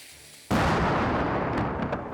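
A single loud gunshot from a VR Dungeon Knight game, an abrupt close blast that leaves a long, broad rumbling decay.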